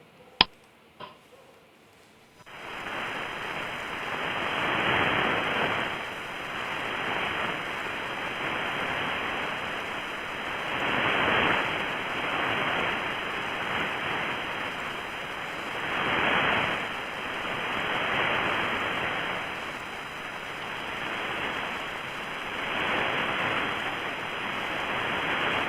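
Radio emissions from Jupiter, received as long waves and played as sound: a steady roaring hiss that swells and fades in slow, surf-like waves for about twenty seconds after a couple of faint clicks.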